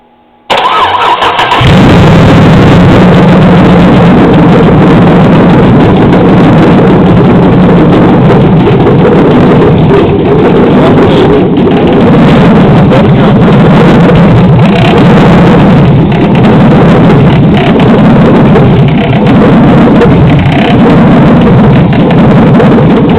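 A 2007 Chevrolet Silverado 5.3L LH6 V8 with lifter tick cranks after a quiet moment, then roars into a loud, constant idle very close by, with no one talking.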